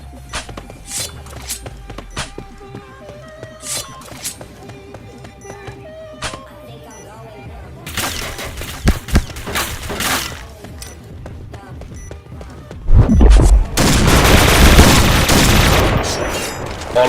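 Gunfire in a team shooter video game comes as scattered single shots, then dense bursts and booming explosions later on. It is loud and continuous, with players talking over it.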